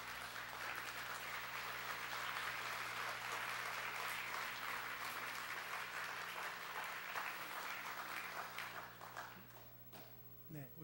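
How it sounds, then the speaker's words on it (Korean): A church congregation applauds to welcome a retired pastor, dense sustained clapping filling the room for about nine seconds before thinning out and fading near the end. "여러분 한번 우리 환영하는 마음으로 잠깐 박수하시겠습니다."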